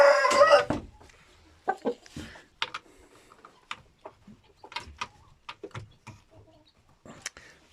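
A long-tailed Indian breed rooster clucks in a string of short, sharp bursts, spaced irregularly and fairly close, with no one talking.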